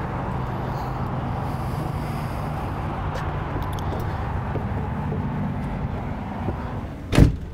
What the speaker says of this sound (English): so I can shut this door because it's like 12 degrees outside